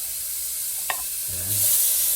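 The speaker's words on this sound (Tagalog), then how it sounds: "Una po nating ilalagay ang ating pork liempo bilang kailangan natin siyang i-render para lumabas ang kanyang natural fats" Pork liempo frying in a pan to render its fat, a steady hiss of oil running throughout with a brief utensil clink near the start and a low rumble swelling toward the end.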